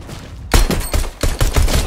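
Pistol gunfire in a video game, a burst of about five sharp, loud shots fired in quick irregular succession after a brief quiet lead-in.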